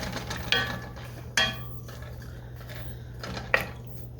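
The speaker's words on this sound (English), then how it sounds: "I'm going to go ahead and stir this around a little" A utensil stirs cabbage in a pan on a stovetop, making three sharp, separate metallic scrapes and clinks against a quiet background hum.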